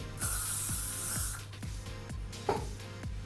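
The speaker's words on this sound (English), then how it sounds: "give it a quick spray." A long hiss of hairspray for about a second, then soft rustling and a sharp tap, all close to the microphone.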